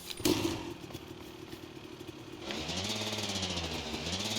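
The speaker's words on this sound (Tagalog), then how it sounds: "Rinig mo yung motor." A motorcycle engine in the video game A Way Out starts up partway through, settling into a steady mid-pitched idle with rising and falling revs over faint background noise.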